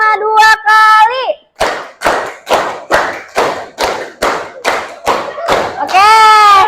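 Children in a classroom clap a steady, evenly spaced series of about ten sharp hand claps, with a voice heard just before and just after.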